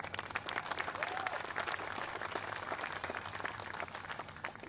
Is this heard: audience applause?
yes